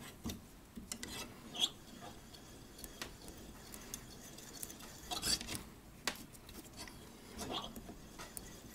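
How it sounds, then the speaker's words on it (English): A steel reamer turned by hand through a brass bush in a vintage Korean 31-day wall clock, giving quiet, intermittent scraping and rasping strokes with small clicks and pauses between them. "There it goes through. Take the reamer out."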